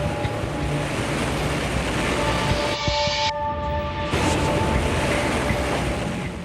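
Hurricane wind roars steadily alongside crashing surf, a loud, unbroken rush of air and water with a brief dip in the middle.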